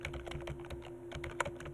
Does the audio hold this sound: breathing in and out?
no